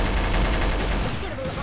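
Loud, dense video-game gunfire during a zombie shooter match, a continuous barrage of rapid shots that fills the clip, thinning slightly near the end.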